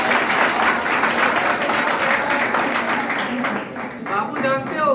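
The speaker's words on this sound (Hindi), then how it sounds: "ताली" College audience at a national voter awareness contest breaks into steady applause. Dense, even clapping holds for several seconds, then thins and trails off near the end.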